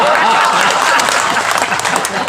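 Dense audience applause at a Hindi comedy show, a loud, continuous clatter of many hands with voices mixed in underneath.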